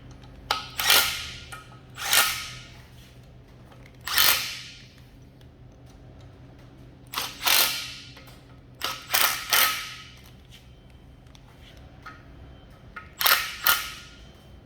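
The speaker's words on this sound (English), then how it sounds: "make sure that the Moyle is pushed firmly up into the cartridge, and then pump heaps of grease into there." A hand grease gun pumping grease into a rock breaker hammer, with repeated loud mechanical clicks and creaks of the pump lever in irregular strokes, close up, no talking.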